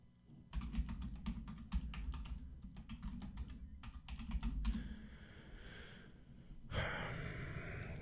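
Rapid typing on a computer keyboard during a live show, steady bursts of clattering keystrokes filling the first several seconds, then quieter room noise and a breathy rush near the end.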